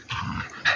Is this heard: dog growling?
yes